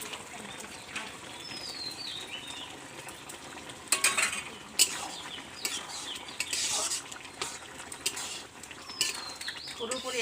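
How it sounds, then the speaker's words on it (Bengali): A spoon stirs a mushroom vegetable curry in a pan, scraping and clinking against the metal in uneven bursts over a soft, steady sizzle. "অল্প সময়ের জন্য নাড়াচাড়া করে নেব।"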